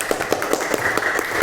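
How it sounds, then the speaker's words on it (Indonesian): Classmates clapping for a student in a classroom, a short run of rhythmic, fairly steady claps at close range with no talk over them. "Beri tepuk tangan untuk Mas Hafiz"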